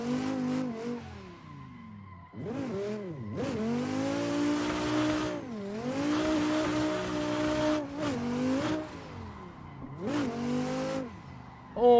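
A Dodge Viper in a racing video game on a tight mountain road: the engine revs repeatedly rise and fall through gear changes, with tire squeal mixed in and no talking.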